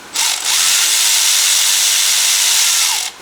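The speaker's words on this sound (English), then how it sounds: "let's see if this little Milwaukee can get up in here" A compact Milwaukee power tool runs in one long, loud, continuous whir while removing hot exhaust manifold bolts on a car being prepared for a turbo build, with brief dips at the start and end.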